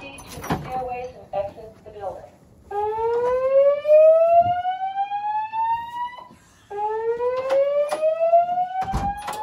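A dormitory fire alarm test blares in loud rising electronic whoops, repeating twice with a short gap, alongside clatter and a recorded voice announcement.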